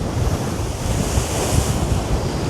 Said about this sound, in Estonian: Praegu tuul on päris kõva ikka.